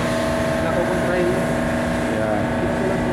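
Steady engine and hull rumble from a large roro passenger ship turning to leave Hoek van Holland port, a constant loud drone with tonal hum, while someone talks over it.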